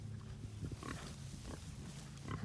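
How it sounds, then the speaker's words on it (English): A lost piglet on a grazing pasture lets out soft, low grunting oinks, several in quick succession, fairly close over a steady low outdoor background, with no talk. "So that noise that he's making is just little oinks."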